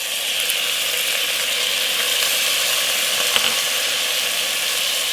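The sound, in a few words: chana dal frying in hot oil with cumin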